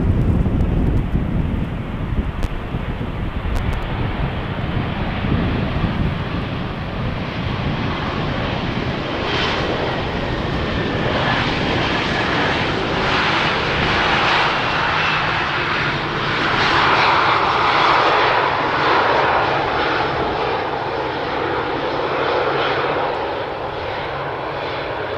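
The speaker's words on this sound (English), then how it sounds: "Austrian Airbus vacating the runway over here at the first exit." An Austrian Airlines Airbus jet rolls along the runway after landing on a windy day at Amsterdam Schiphol, a continuous loud engine roar with rushing wind noise buffeting the microphone throughout.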